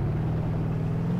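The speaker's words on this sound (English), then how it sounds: "rip it in gear, and away we go. That torquey 6-cylinder" Torquey six-cylinder car engine in the BeamNG.drive driving game revving hard as it accelerates, a loud, steady low rumble that holds close and continuous with no talk over it.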